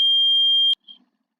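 A sprinkler alarm on a fire alarm control panel gives a loud, steady high-pitched electronic beep for under a second, then stops, followed by a brief faint blip.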